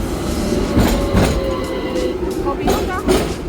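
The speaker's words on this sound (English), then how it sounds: "Train is coming." Passing train heard close by, a rumbling wash of rail noise with rhythmic clacks and a faint squeal, steady for a few seconds.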